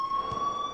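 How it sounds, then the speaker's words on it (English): The fire alarm in the Life is Strange video game rings as a steady, piercing electronic tone, continuous and fairly faint over low background hum. "please turn off that alarm since that's your job"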